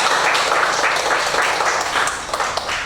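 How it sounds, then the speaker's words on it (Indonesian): Students in a classroom clap together in a short, lively burst of applause, close and fairly loud, lasting just under three seconds. "Tepuk tangan kita semua."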